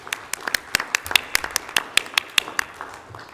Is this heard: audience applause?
yes